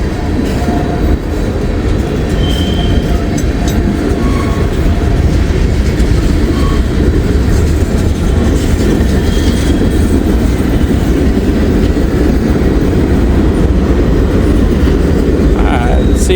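A long freight train of roughly 550 to 600 axles behind a single locomotive rolls past on the railroad, a loud, steady rumble of wheels with faint clickety-clack and occasional squeals throughout.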